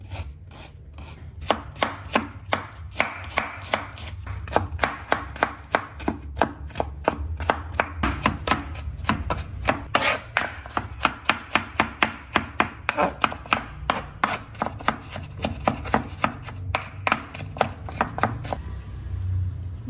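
A knife chops garlic on a cutting board, a long run of rapid, sharp, close taps with brief pauses, alone without talk.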